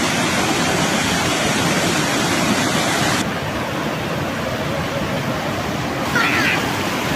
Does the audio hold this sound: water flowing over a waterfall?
yes